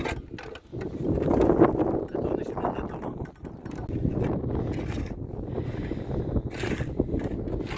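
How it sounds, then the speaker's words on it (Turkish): Strong wind gusts outdoors on a sunny day at a garden site where fence posts are being set in concrete. The low, rumbling buffeting hits the microphone for most of the stretch while people talk and some clanking is heard. "Güneş var ama iyi de rüzgar var ha."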